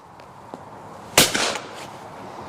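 A single loud Perazzi competition shotgun shot at a clay shoot, a sharp close blast with a brief echoing tail, preceded by a couple of faint clicks.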